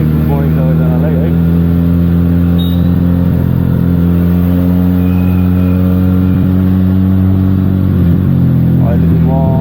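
A Benelli TNT 300 motorcycle on its stock exhaust, idling loud and close in Kathmandu with a rich throbbing drone and brief blips of revving, while a voice is heard alongside.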